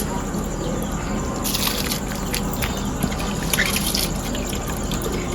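Water is poured into a pot while making chicken dum biryani, producing a steady close splashing trickle with brief brighter surges, under a constant background hum.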